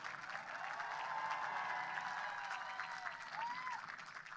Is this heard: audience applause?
yes